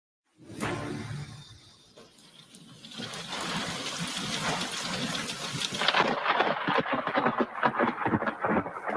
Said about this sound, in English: That is the sound of thunder cracking here and some rain.